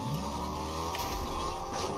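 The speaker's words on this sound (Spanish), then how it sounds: "Vamos en el coche." Car engine under steady load as the vehicle pulls away, a continuous close rumble with a rising tone, no talk over it.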